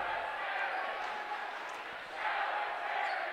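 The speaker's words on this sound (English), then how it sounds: "Herink wakes up the crowd here with the jam." A home crowd roars at a basketball arena after a player throws down a dunk in the lane, a steady broad wash of cheering that swells louder near the end.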